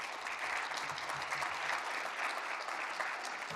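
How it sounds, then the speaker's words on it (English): Sustained audience applause at a small-town pitch event, a dense, steady wash of many hands clapping at even loudness throughout, with no voices standing out. "A round of applause."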